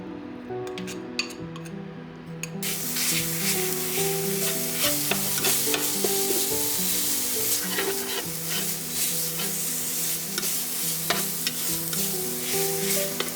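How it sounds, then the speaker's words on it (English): Kroeung herb paste hitting hot oil over medium-high heat for a Cambodian beef stir fry, a loud burst of sizzle that stays strong and close, with frequent spatula scrapes and clicks against the pan. "On medium-high heat, in goes oil. Now add the kroeung."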